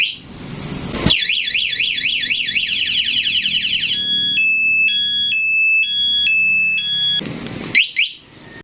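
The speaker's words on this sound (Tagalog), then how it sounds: "ganun lang ang pagkabit ng alarm para sa MIUI 125" A motorcycle alarm fitted to a Yamaha Mio i 125 blares loud and close, cycling through rapid warbling sweeps, then steady alternating two-tone beeps, ending with a short burst of chirps and clicks.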